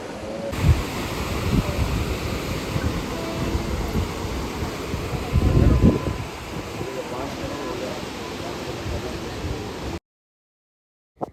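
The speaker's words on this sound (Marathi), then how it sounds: "आता तुम्हाला मी दाखवते नजारा समुद्र बघा" Sea waves washing onto the shore at Kanniyakumari make a steady, close, broadband roar mixed with wind. A few heavier surges rise in the middle, and the sound cuts off abruptly near the end.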